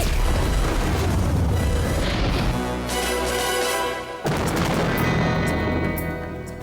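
A large explosion for a James Bond stunt in Casino Royale, filmed on location in Karlovy Vary, Czech Republic, a loud booming roar with rumbling blasts and a second sharp burst partway through, no talk.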